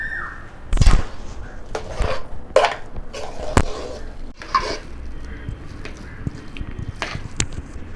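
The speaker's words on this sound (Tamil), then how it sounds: "நல்லா சூடாக இருக்கும்போதே இந்த மாதிரி கரண்டி வச்சு நல்லா மசிச்சிருங்க" Ladle mashing hot cooked lentils in a pot, a run of irregular knocks and scrapes of metal against the vessel, close and fairly loud, with soft squelching between strikes.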